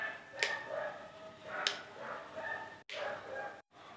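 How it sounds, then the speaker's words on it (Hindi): A dog barks outside in the street, heard faintly from indoors as a few sharp, spaced yips over a quiet room background. "बाहर गली में जो है ना कुत्ता बहुत ज़्यादा चिल्ला रहा है"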